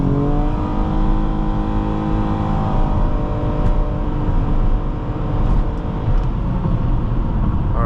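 A 2011 Nissan Maxima SV accelerates hard from a standstill to 60 mph with wheel spin, its engine rising loud and close through the revs, dropping briefly at a gear change, then climbing again.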